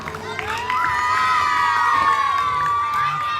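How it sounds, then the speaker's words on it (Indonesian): An outdoor crowd at a Scout campground cheers and shouts, with children's high voices rising into a loud, sustained roar that rings on steadily with little sign of clapping. "Kita berikan tepuk tangan yang meriah"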